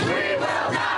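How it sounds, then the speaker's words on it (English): A large crowd of protesters shouting at a street protest, a dense continuous roar of many voices, loud and sustained with no single speaker standing out. "Protests in cities across the country, with massive crowds packing Minneapolis"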